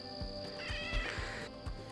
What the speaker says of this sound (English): It's an armful of fluffy kittens.